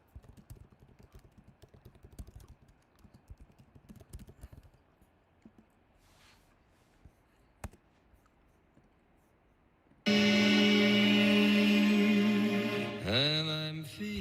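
Computer keyboard typing: quick, irregular clicky keystrokes patter close by for about ten seconds, then a much louder, dense burst of music and noise abruptly takes over.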